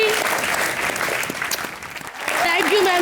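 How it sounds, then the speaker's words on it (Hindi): A studio audience at a comedy show bursts into loud, sustained applause that swells at the end, with a voice talking over the clapping. "जोरदार तालियां।"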